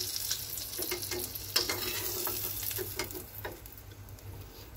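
Eggs fry in hot oil with a soft, continuous sizzle and light scraping stirs, fairly quiet and close, gently fading toward the end.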